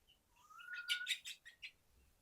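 A bird chirps and tweets in a quick series of bright, high calls, fairly close in an otherwise quiet setting.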